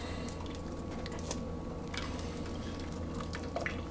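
Starchy pasta water drips and trickles into an octopus sauce braised with Chianti and tomato, a soft wet patter of small drips over a steady low kitchen background.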